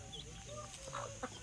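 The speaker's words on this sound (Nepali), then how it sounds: "यो नि हाम्रै कुखुरा होइन?" Backyard village chickens in rural Nepal cluck in a few short, soft bursts over steady outdoor background noise, with one sharper call near the end.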